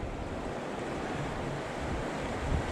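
River water rushing at a wild river crossing in the Scottish Highlands near Beinn a' Ghlo in March, a constant, loud broadband roar with wind buffeting the microphone and no voices.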